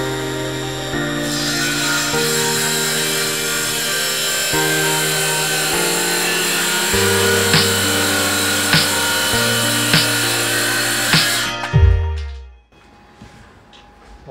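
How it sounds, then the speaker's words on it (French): A circular saw whines steadily as it cuts through MDF board for about twelve seconds, pitch shifting slightly under load, then spins down and goes quiet. "on va passer aux scies circulaires"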